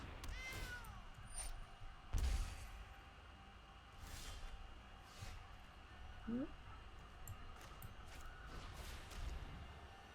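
A cat meows a few times from the MTG Arena video game, short rising cries over a faint background hum, alongside other soft in-game chimes and effects.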